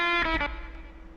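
An electric guitar runs through a 4x10 Fender cab with a fast slapback delay and light reverb, giving a short twangy chord whose quick single repeat fades into a brief wash.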